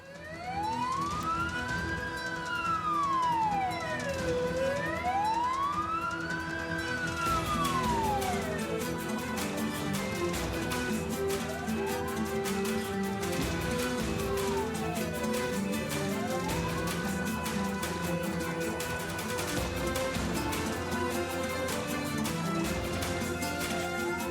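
An ambulance siren wails continuously at close range, its pitch sweeping up and down in a steady rising-and-falling cycle, then shifting to a faster warble with an engine rumbling underneath.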